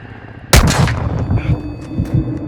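Gunfire in the Call of Duty DMZ video game: a sharp loud shot hits suddenly, then a scatter of lighter, more distant shots and thuds follows in an irregular exchange.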